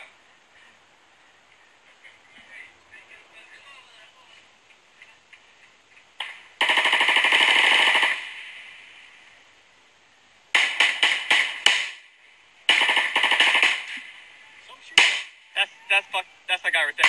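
Bursts of gunfire along a road in Afghanistan: a sustained loud volley, then clusters of rapid automatic shots and scattered single cracks, close and sharp over a quiet background.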